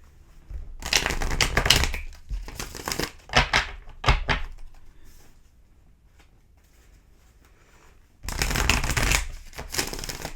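Several bursts of tarot card shuffling, riffled and bridged close by, with a quiet pause in the middle before a final shuffle.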